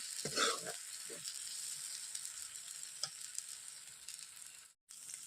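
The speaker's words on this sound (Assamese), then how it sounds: "এইখিনি মই অলপ সময় ভাজি ল'ম, একেবাৰে ইয়াৰ পানীটো শুকাই যোৱালৈকে।" Onion paste fries in a wok over a wood fire, giving a faint, steady sizzle that runs the whole way through. A few louder scraping stirs cut in near the start and again later.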